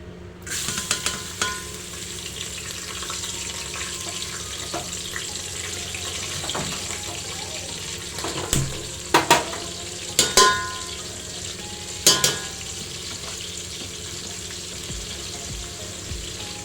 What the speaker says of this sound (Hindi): तो अब मैं ऐड करूँगी मिर्ची, और ये यहाँ पर विजय ने काटा है लहसुन